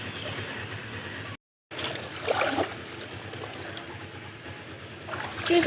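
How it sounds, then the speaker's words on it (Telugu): Water splashes and trickles as a saree is swished and rinsed by hand in plain water, a steady close wet sloshing broken by a brief silent gap. "ఒకసారి నార్మల్ వాటర్లో ఈ విధంగా మళ్ళీ చీరనంతా కూడా జాడించేసిన"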